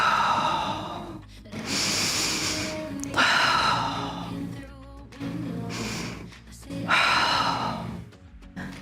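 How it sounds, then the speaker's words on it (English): Heavy rhythmic breathing during a power flow yoga class while holding dancer pose, with three long loud exhales or sighs spaced a few seconds apart, close up and without speech. "Breathing through it."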